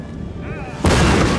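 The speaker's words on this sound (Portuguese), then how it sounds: "Vamos dar uns tiros cruzados aqui." A sudden heavy boom of cannon and musket fire bursts in partway through a battle in Total War: Napoleon, loud and sustained after a moment of quieter rumble, with someone talking just before it.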